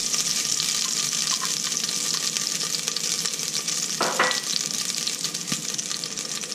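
Garlic and ginger frying in olive oil over low heat for Korean bean sprout namul, a continuous dense sizzle with a few soft clicks and scrapes from a utensil, close and steady.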